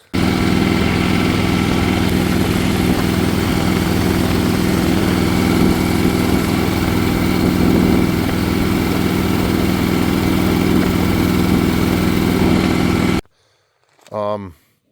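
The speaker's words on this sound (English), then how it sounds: "This motor runs phenomenally." A motorcycle engine runs steadily and loudly up close, a continuous rumbling drone that cuts off abruptly near the end, followed by a brief moment of speech.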